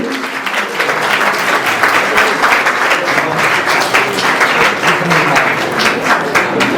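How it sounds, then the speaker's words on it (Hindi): Loud, sustained applause from a large crowd at a district-level youth parliament event in Chamba, steady and dense throughout with no talking. "जोरदार तालियों से इनका स्वागत करें"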